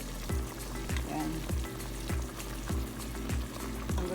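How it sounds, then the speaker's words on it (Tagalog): Chicken adobo in a 7-Up sauce bubbling uncovered in a pan as the sauce reduces, a steady simmering sizzle with a soft, regular pulsing rhythm and no talk over it. "Hayaan lang natin siyang kumukulo ng ganyan."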